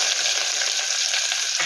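Mustard seeds and onion fry in hot oil, giving a bright, crackling sizzle that stays close and loud for the whole short burst.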